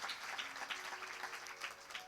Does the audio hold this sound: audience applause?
yes